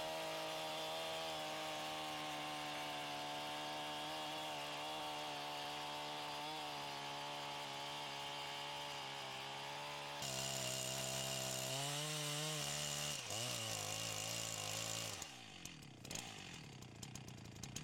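A chainsaw bores a mortise cut into a hardwood tree being felled, its engine droning steadily and loud for the whole stretch, with a shift in pitch midway as the bar bites and a brief throttle change near the end.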